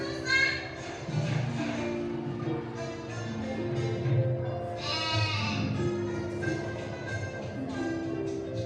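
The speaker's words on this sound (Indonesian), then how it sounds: "Itu namanya kambing pintar." Goat bleating in a classroom-style setting: a series of nasal, wavering bleats repeated across the stretch, fairly close and steady, with some faint voices or background murmur beneath.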